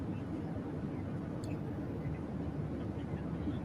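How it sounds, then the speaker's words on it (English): Steady broadband airplane cabin roar during an in-flight call, a constant low rumble filling the whole stretch without pauses, with no clear voice over it. "He is on a plane right now."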